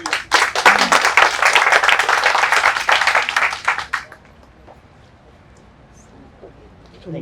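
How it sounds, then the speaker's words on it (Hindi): An audience at a Hindi youth story competition award ceremony and book launch bursts into loud, dense applause for about four seconds, then it stops abruptly, leaving quiet room sound. "एक बार सबके लिए ताली"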